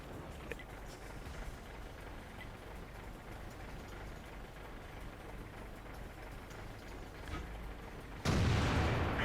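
A BL-10 naval gun fires on a video game test server: a single heavy, loud blast near the end, following a long stretch of low, steady rumble.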